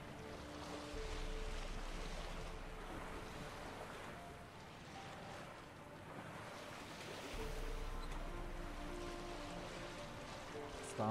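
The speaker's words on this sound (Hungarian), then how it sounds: "Egy hajókázunk ezzel a kis szakadt csónakkal." Water washes steadily around a small, battered wooden boat drifting on open water in Witcher 3 Wild Hunt, with soft wind and rolling swells that rise and fall in two broad surges.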